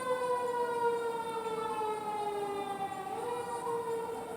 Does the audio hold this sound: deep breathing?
no